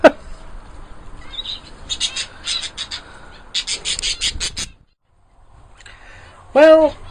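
Budgies in an indoor aviary give bursts of sharp chirps and chattering squawks, close and fairly loud, with short pauses and a final squawk.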